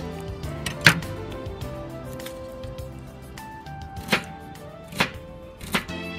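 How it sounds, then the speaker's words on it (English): Lemongrass blades being cut away from the stalk on a board for Vietnamese pork ribs cooked outdoors, a few sharp separate chops and snaps spaced apart over a low background hum. "Begin by removing the lemongrass blades from the stalk."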